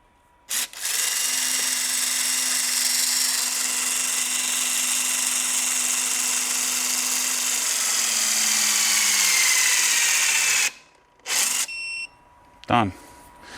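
A HYTORC centerlock wheel gun tightens a centerlock wheel, running as a loud, steady powered whine for about ten seconds and then stopping with a few short bursts at the end.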